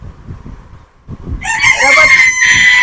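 A Coco Cochin rooster on a farm lets out a loud, close crow that rises and holds, following a stretch of low clucking and rustling with a voice talking underneath.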